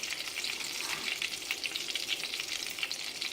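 Chana dal frying in the same oil used for drumsticks, for a drumstick and mango pickle, giving a fairly quiet, even hiss of bubbling oil throughout, with no voices.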